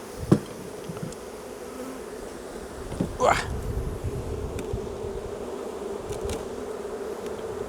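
Honey bees buzzing at a hive during a spring swarm-prevention check, a continuous close drone with individual bees flying past the microphone, a few light knocks and a faint wind rustle.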